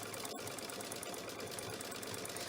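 A sewing machine stitching steadily during free motion couching of yarn onto a quilt, a quiet continuous motor whir with a fast needle rhythm.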